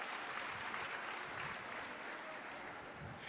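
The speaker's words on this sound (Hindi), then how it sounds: "चला सभी एक बार ताली बजाई ना मामाचं स्वागत करा." Audience applause welcoming a guest at a public government outreach program in Pandhana, Khandwa: dense, continuous clapping from a large crowd, steady and unbroken throughout, somewhat distant.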